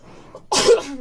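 A single sharp sneeze bursts out close and loud after a brief quiet breath, then trails off.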